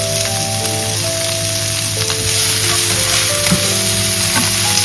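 Medium-sized onion sizzling and frying in a pan while cooking chicken Schezwan dry, a steady close crackle with no voices.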